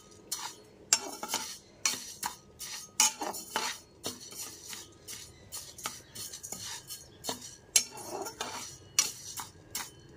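Moong dal dry-roasts in a hot kadai over a low-to-medium gas flame, with a spoon or spatula scraping and clinking against the metal pan in irregular stirring strokes close to the microphone.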